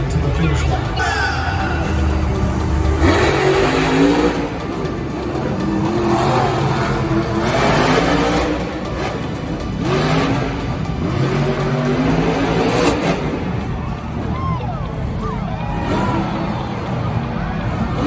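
Monster Jam monster trucks racing around an arena track, loud roaring engines surging and fading with tire noise and crowd din, while a person talks over the racket.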